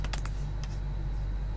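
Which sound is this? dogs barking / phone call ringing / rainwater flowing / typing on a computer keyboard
typing on a computer keyboard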